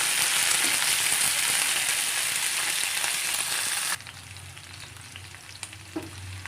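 Pulao ingredients fry in a pan with a loud, dense sizzle that drops sharply partway through to a quieter crackle, with occasional stirring clinks.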